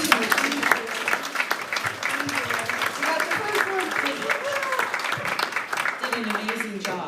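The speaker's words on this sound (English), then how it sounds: "How about a round of applause for our" An audience at a visit event breaks into sustained applause, a dense steady patter of many hands clapping close by for several seconds, with voices faintly mixed in.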